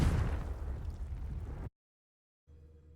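A Confringo blasting spell bursts in Hogwarts Legacy, a loud broadband explosion lasting over a second before cutting to silence, then a low ambient rumble returns.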